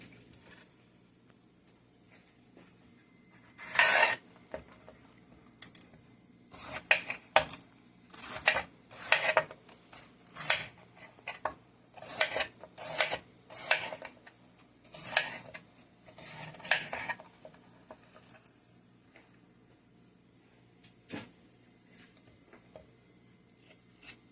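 Knife slicing through mango flesh on a board for Mexican mango salsa, with a run of crisp, close cuts and taps in quick bursts, then a pause toward the end.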